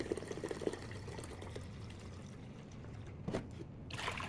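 Vinegar is poured from a bottle into a measuring cup, a soft splashing trickle that pauses briefly and then resumes, fairly faint and close by.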